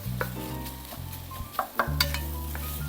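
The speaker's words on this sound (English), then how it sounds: "You want to hear that sizzle. So I got onions in. We're going to mix this up." Chopped onions sizzle in a soup pot for colcannon soup while a utensil stirs them, giving a steady hiss broken by scraping and clinking against the pot.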